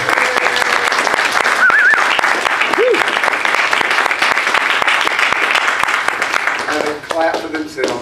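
A church congregation applauds steadily for several seconds, a dense, loud wash of clapping with a few voices and sung notes rising through it before it thins out at the end.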